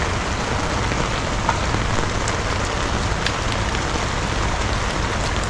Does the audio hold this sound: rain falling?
yes